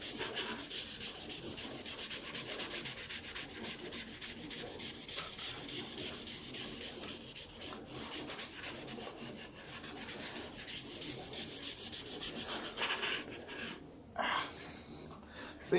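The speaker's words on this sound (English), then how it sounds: "So it's really just giving it a good rub through." A hand rubbing down and sanding fresh car paint, a quiet, continuous scratchy rasp in a steady back-and-forth rhythm, close up, with brief gaps near the end.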